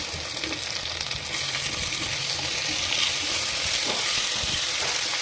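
Tomatoes go into onions frying in a clay pot for fish curry, bringing a loud, steady, close sizzle with some stirring scrapes and no talk.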